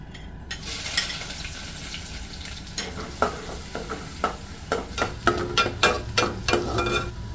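Fish frying in hot oil, a steady bubbling sizzle punctuated by sharp crackles and stirring scrapes that grow busier toward the end.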